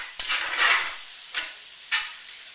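Linguini is stirred in a pan with a few close, scraping swishes, soft sizzling beneath each stroke and short pauses between them.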